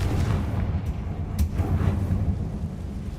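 A fiery explosive spell from Hogwarts Legacy goes off as a deep, rumbling boom that rolls on for several seconds, loud and close, with a sharper burst in the middle.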